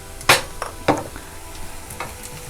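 Salted onions sauté in a pan for egg curry, with several scraping stirs and light utensil clinks breaking over a steady low sizzle.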